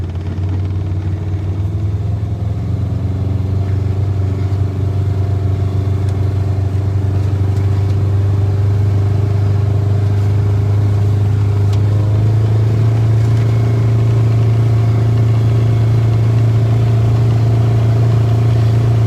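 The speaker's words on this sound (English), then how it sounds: "we're just going to hop into the Gator and take that little ride" A Gator utility vehicle carries riders around a cider mill farm, its engine producing a constant, loud low rumble with little change in pitch for nearly twenty seconds and no voices.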